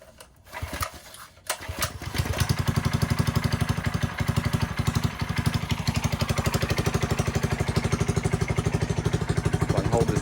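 A Predator 212 engine on a minibike sputters and catches, then settles into a steady, loud, rapid thumping putter while ridden, close and continuous with no voices.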